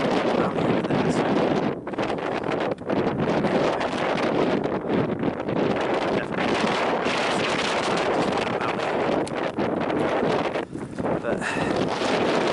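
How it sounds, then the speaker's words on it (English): Strong wind blowing on an outdoor hike, a loud continuous roar buffeting the microphone throughout, with a voice speaking now and then underneath. "It is a lot windier than I expected"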